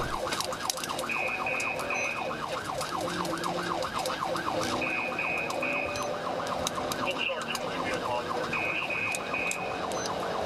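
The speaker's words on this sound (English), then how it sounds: "That alarm sound is annoying though." A video game police siren in True Crime wails steadily, rising and falling in rapid cycles, with intermittent high electronic beeps and a low rumble underneath.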